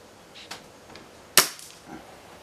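A single sharp crack from a target-tuned HW 97 air rifle being fired, close and loud, with a quick decay and a few faint mechanical clicks around it in an otherwise quiet setting.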